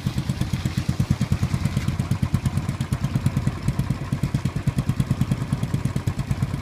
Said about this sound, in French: Le Père Noël avec une moto rouge.